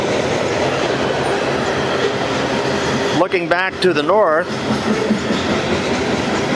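A freight train rolls past on the rails near a defect detector in Kentucky, a loud continuous rumble and clatter throughout, with someone speaking briefly over it midway.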